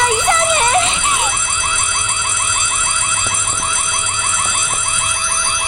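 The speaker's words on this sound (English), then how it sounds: "She really doesn't like the alarm, does she?" Loud rapid electronic alarm siren warbling continuously in the horror video game White Day: A Labyrinth Named School, with a short rising and falling tone at the start, with no voices over it.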